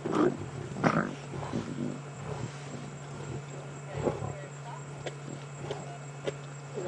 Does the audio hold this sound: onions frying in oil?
no